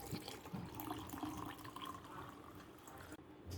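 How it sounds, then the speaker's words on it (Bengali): Cold tubewell water poured into a jaggery and lemon sherbet, a soft, steady splash of liquid continuing for a few seconds, quiet and close. "এখন আমি টিউবওয়েলের ঠান্ডা পানি দেব।"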